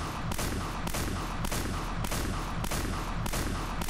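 Rapid macro-driven gunfire in a shooting game, with sharp shots repeating about every half second in a steady, even rhythm, loud and close with no talking.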